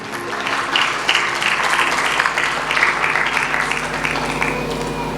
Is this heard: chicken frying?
no